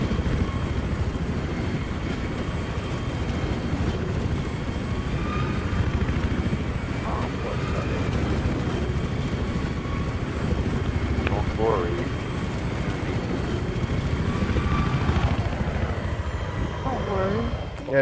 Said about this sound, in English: Enemy chopper spotted, my friend.